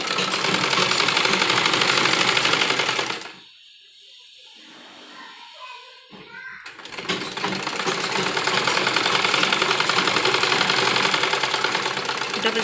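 Sewing machine running steady seams on a child's umbrella frock, double-stitching the waist: a loud continuous whirring run, a brief quieter pause with scattered handling sounds, then another long steady stretch.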